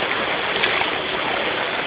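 Heavy rain with floodwater streaming down a street, a steady loud broadband rush of water that holds constant throughout with no speech.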